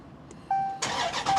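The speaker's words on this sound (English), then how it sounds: "One thing I really love about this vehicle is the sound it makes when you're cranking up the engine." A 2015 Dodge Challenger Scat Pack Shaker engine cranks with a high whine, then catches at once into a loud, full roar that settles toward an idle, heard up close with no talking.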